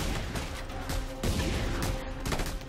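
Big explosions and gunfire in the video game Just Cause 2 form a dense, rumbling barrage of overlapping blasts and crackling bursts, continuous and fairly quiet in level.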